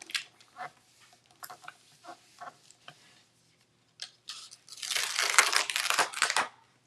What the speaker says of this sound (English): rub the ink on